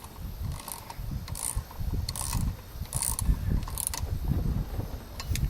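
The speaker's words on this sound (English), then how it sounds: "Now we put on 58 foot-pounds of torque in a crisscross pattern." A torque wrench tightens the rear wheel of a Yamaha FJ-09 motorcycle in a crisscross pattern. Several sharp clicking ratchet bursts recur at a steady pace over low mechanical rumble, close and moderately loud, with no talk.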